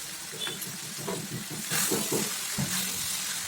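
Flattened rice (poha) frying with salt in a pan for Bengali-style chirer polao, a steady soft sizzle and hiss broken by scraping stirs from a spatula, close and continuous.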